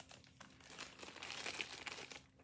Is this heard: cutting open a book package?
yes